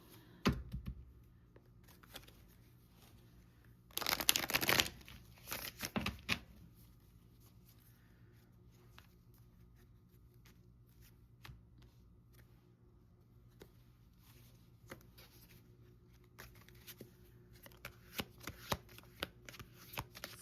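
Oracle cards are shuffled by hand in a quiet room: one loud, riffling burst of flicking cards, then scattered soft taps and slides of the deck, all close and with no voices.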